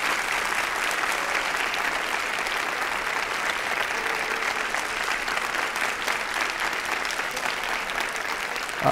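Sustained applause from a lecture audience after a talk on Max Weber by Fernando Henrique Cardoso, steady dense clapping that holds evenly for the whole stretch with no voices breaking through.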